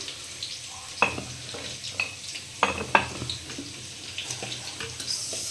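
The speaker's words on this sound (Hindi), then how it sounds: "और इसको बीच बीच में चलाते रहेंगे" A spoon stirs masoor dal with turmeric and salt in a handi pot, giving a few distinct scraping knocks over a soft bubbling hiss, close by with no talk.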